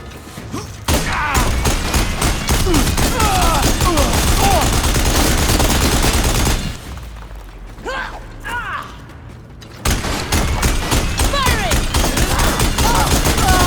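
Rapid automatic gunfire from the video game Horizon Forbidden West rattles loudly and continuously, breaks off for a few seconds of quieter action with shouted voices, then resumes at full intensity.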